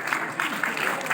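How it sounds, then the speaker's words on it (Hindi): An audience at the Lokrang 2023 cultural festival in Bhopal applauds, a brief, dense burst of many hands clapping close and loud with no pause. "तालों पर आपकी ताली के लिए आपको धन्यवाद।"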